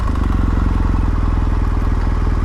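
A 2017 BMW R1200 GS Adventure boxer engine, started by keyless ignition, runs loud and close with a steady throbbing idle and mechanical clatter. No one speaks over it.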